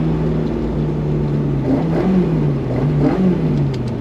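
From inside a Ford Escort, the engine drones steadily while driving, its pitch wavering up and down with small throttle changes, loud and close throughout.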